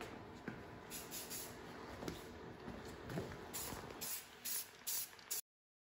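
Spray painting a second coat on a wheel: short, quiet hissing bursts from a spray can, fired in an irregular rhythm with brief pauses between them.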